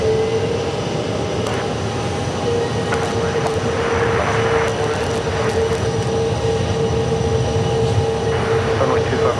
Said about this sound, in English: Soon landing will be Southwest Airlines Flight 3744 from Salt Lake City,